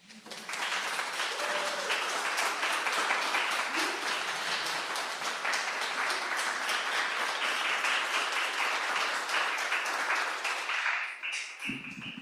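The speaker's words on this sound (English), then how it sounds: "Another round of applause." Enthusiastic applause from an audience at a poetry reading, dense clapping that swells quickly and holds steady for about ten seconds before dying away, with a few cheers and voices mixed in.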